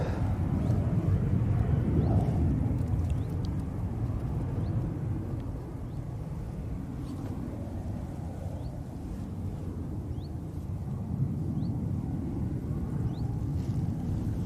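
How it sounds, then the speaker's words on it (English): Wind blows across an airport, a steady low rushing roar with gusty buffeting on the microphone that lasts throughout and eases only slightly midway, with no voices. "Oh, that wind's just got up."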